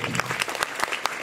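Brisk, close applause from an audience at a rhythmic yoga gathering, with distinct individual claps standing out in a short lively burst and no speech over it.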